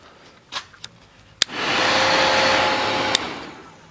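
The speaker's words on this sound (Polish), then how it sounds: "Wentylator, kurde, działa." An electric ventilator fan switches on after a few faint clicks and taps, then runs as a steady broadband whirring hum with a faint whine before another click, close and fairly loud with no talk.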